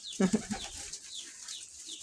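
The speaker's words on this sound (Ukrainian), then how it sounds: "Як це ці голуби називаються?" Pigeons coo softly nearby, a few low throaty calls at the start, then faint rustling and distant hiss.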